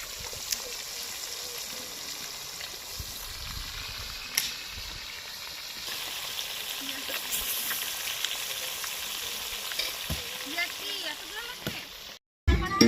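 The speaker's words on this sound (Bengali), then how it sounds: "এখানে এখন আমাদের মাছ ভাজা চলছে" Fish frying in oil outdoors at a family picnic, with a soft, steady sizzle and occasional scrapes and clicks in the background.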